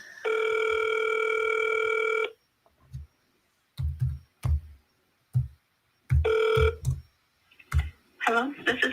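Outgoing telephone call ringback tone: a loud, steady electronic ring lasting about two seconds, a pause, then a shorter second ring, with scattered clicks and soft talk between the rings.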